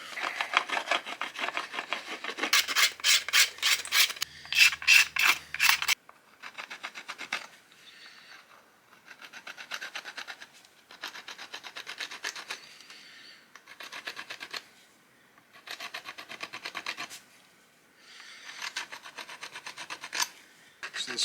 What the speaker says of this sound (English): some sandstone, even some coarse granite will definitely take out these high spots, making for a much smoother shaft